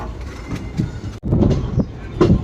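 A passenger train pulls out of Nagercoil Junction, with close, rhythmic clickety-clack bursts from the wheels over rail joints and a brief dip before the clatter resumes.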